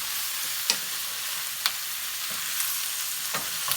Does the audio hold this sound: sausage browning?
yes